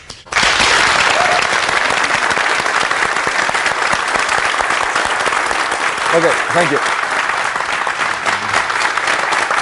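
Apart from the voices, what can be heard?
audience applause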